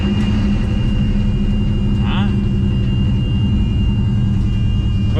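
The engine of a 1969 Valiant car idles steadily up close as a loud, constant low rumble, with a brief higher squeal partway through.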